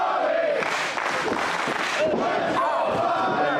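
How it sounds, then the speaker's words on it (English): Crowd at an NYCW independent wrestling show cheering and shouting for Bobby Ocean during his match with Johnny Moran, a loud continuous roar of voices with yells rising through it. "Crowd getting behind Bobby Ocean."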